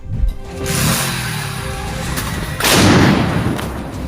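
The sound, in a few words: bomb explosion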